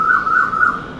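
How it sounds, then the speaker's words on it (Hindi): An Asian koel calling outdoors on a cool, breezy evening, a clear whistled note repeated in a quick wavering series, close and loud with no other sounds. "कोयल भी आ गई"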